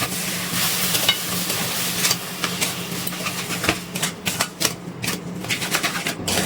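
Raw mango pulp being stirred with sugar in a pan over a gas flame, giving a steady scraping and soft sizzling texture that grows choppier toward the end, with no talking.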